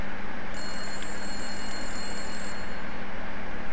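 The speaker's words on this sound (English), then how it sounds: "I guess I best pick up the phone" Telephone ringing in the video game Resident Evil 8, a sustained electronic bell-like ring lasting about two seconds over a steady background hum.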